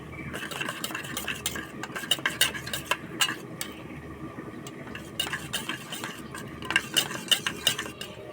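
Spice powder being stirred with flour and a little water, heard as irregular clinks and scrapes of a spoon against a metal bowl or pan, fairly close, with uneven bursts and short pauses.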